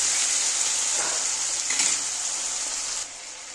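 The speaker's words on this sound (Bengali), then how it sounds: "মাছগুলো ভেজে নিচ্ছি। হালকা ভাজা করব" Shrimp fry lightly in hot oil in a pan, giving a close, continuous sizzling hiss that softens slightly near the end.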